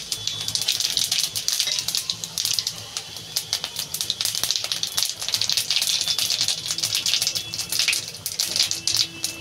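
Whole cumin seeds with a bay leaf and a dried red chilli crackle in hot oil for a Bengali catla fish and potato curry, a dense, loud, close spluttering that continues without pause.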